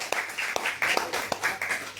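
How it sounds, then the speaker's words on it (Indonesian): A small audience claps for the participants in a few sharp, rhythmic bursts, close and moderately loud, with brief gaps between them. "Tepuk tangan untuk peserta TM yang brilian"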